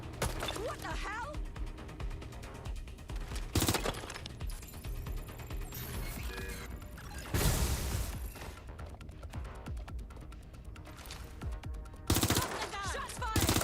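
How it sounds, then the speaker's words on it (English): Gunfire in the game Watch Dogs: Legion, with loud volleys breaking out repeatedly over a busy, constant layer of game sound, and voices shouting in between. "Shots fired!"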